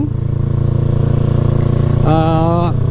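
A Yamaha R3 sports motorcycle being ridden on a road trip to Ladakh holds a loud, steady engine drone, then the pitch climbs briefly as it revs up near the end before settling.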